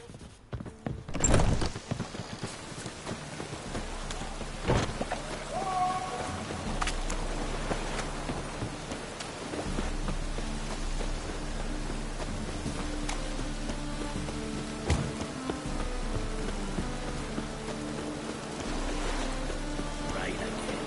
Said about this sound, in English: Rain again.